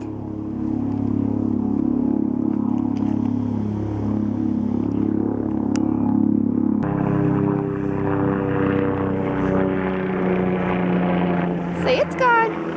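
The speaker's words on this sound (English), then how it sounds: "Do you hear the helicopter?" A helicopter flies overhead, its low droning rotor and engine hum steady and moderately loud, continuing under voices.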